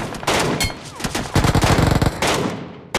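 Rapid MK rifle shots crack out in a close burst in BGMI, followed by scattered single shots and game sound effects, loud with no talking.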